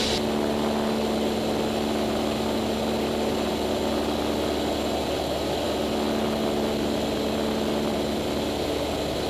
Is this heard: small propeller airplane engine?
yes